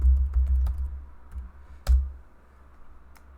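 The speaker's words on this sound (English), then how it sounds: "I'll just type VP, go like that." Keys clack on a computer keyboard as a short command is entered: a quick burst of close, fairly loud keystrokes, then a few scattered clicks fading into a quieter background, with no one speaking.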